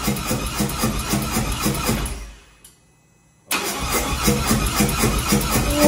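A 2021 Harley-Davidson CVO Road Glide starting after a stage 2 cam install: a rough loud idle, a sudden drop to near silence as it stalls, then the engine catches again and settles into a loud lumpy idle.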